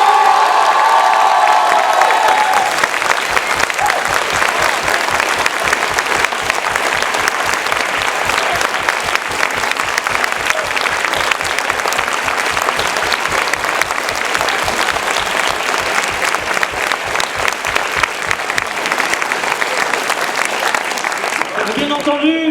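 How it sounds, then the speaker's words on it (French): A concert hall audience gives a long, loud ovation, dense rhythmic clapping sustained throughout with faint cheers, and a brief voice at the start. "Je voudrais que vous fassiez une ovation à Adrien Langenet."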